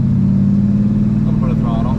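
A Pontiac Le Mans engine is held at medium throttle with a steady, loud low rumble and a strong droning hum, and voices talk briefly over it near the end.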